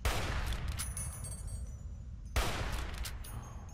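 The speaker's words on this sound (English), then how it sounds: "I heard bullets." Gunfire in the video game Fallout New Vegas: a dense, loud burst of shots, a brief dip, then a second burst, with no talk.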